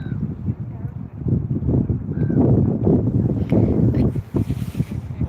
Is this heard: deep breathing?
no